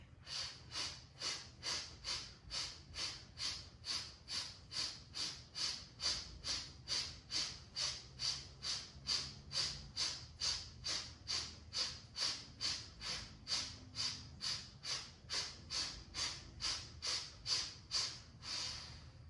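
A steady run of quick, even breaths during a yoga session, each inhale and exhale blending into a rhythmic pulse that repeats roughly twice a second for the whole stretch, close and fairly soft with no talking.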